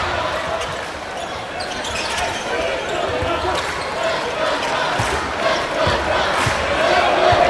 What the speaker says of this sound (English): quiets down the crowd that was starting to make its most noise of the night.